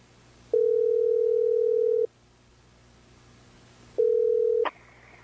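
A telephone ringing tone sounds as two steady electronic tone bursts: one long, then a shorter one cut off by a click, with quiet hiss between them.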